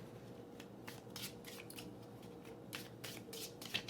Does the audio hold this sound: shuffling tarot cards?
yes